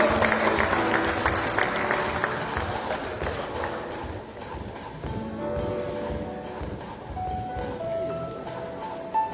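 An awards ceremony audience applauds in a steady, dense wash of clapping that holds for several seconds, thinning slightly toward the end, with faint voices mixed in.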